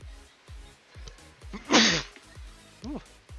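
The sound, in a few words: sneeze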